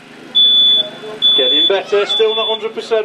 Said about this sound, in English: Hands up who's got a smoke alarm that sounds like this one.